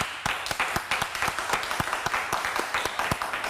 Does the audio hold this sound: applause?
yes